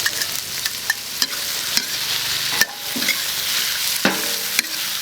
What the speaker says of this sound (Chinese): 炒了一下之后，下入猪肝。